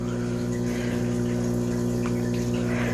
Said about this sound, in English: Those are bubbles.